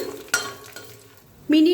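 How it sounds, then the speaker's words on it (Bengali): Whole spices (cardamom, cloves, cinnamon and ginger) being fried in oil in a pan for matar paneer, with a short clink of a utensil, soft sizzling, and a louder burst of sizzle near the end, close by. "এবার মশলাটাকে একটু ভাজা ভাজা করে নিচ্ছি"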